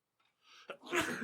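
One sharp sneeze close to the microphone: a faint intake, a quick catch of breath, then a loud burst of breath that trails off briefly.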